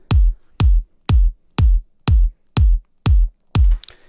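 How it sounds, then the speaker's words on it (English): An isolated kick drum soloed from a music mix hits eight times in a steady, even beat about every half second, each thump punchy and loud with a deep booming low end, with no other instruments or voices. "So the kick drum on its own sounds like this."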